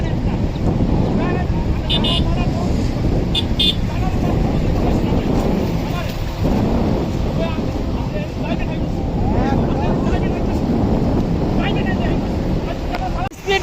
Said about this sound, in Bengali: স্পিড বোট দেখো,